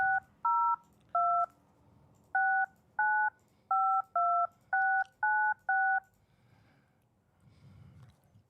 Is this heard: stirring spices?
no